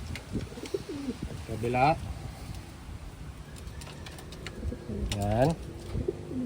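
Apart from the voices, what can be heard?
pigeons cooing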